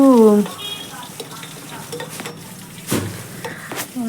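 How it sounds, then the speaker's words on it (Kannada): Crushed garlic frying in a pan, a close steady sizzle with scraping stir strokes and occasional clinks of a utensil against the pan, heard alone without talk. "ಬೆಳ್ಳುಳ್ಳಿ ಹಾಕಿದೆ ಸರಿಯಾಗಿ ಫ್ರೈ ಮಾಡಬೇಕು ಒಂದು ಸ್ವಲ್ಪ ಲೈಟಾಗಿ."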